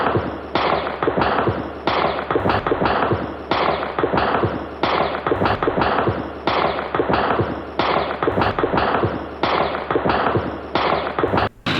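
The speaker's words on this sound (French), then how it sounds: "les premiers coups de feu retentissent à Cotonou" Dense, crackling bursts of gunfire during an armed attack in Cotonou, rapid irregular reports piling over one another almost without pause, loud and harsh, with no speech.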